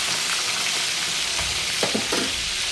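Stuffed eggplant masala curry (gutti vankaya) sizzling steadily in oil as a spoon stirs it, with a few brief scraping strokes near the end over the constant frying hiss.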